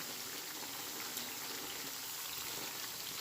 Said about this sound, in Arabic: بعد ما الزيت سخن كده هنزل بقى بالكبده